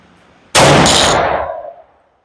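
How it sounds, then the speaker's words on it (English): A single loud, close rifle shot from a .400 Legend firing a 195 grain Hornady round, a sharp blast followed by a decaying echo tail that fades over about a second, with no talk. "here goes our first shot with the 195 grain Hornaday"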